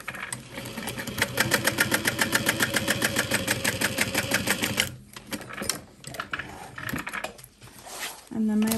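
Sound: sewing machine sewing backpack gusset pieces together

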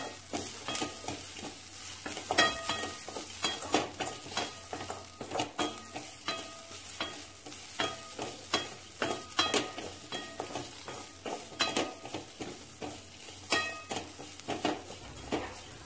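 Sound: grated coconut lightly roasting and being stirred in a pan

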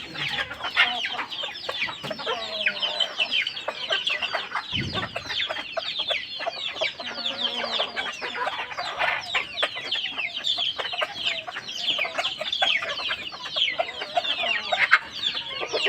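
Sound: chickens and rooster clucking

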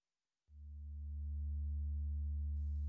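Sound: FAFF multimode filter self-oscillating tone

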